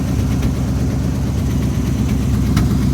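A 1978 Jeep J20 truck engine runs steadily through its exhaust stacks, a loud, close, continuous low rumble with a throbbing, uneven idle and no voices over it.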